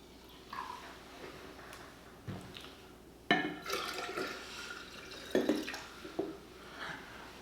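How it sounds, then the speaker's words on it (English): Sparkling water, about 8 ounces, is poured into a drink, giving a fizzy, splashing liquid sound in uneven bursts with a few sharper splashes near the end, moderately close and with no talking. "So we're going to do 8 ounces of sparkling water."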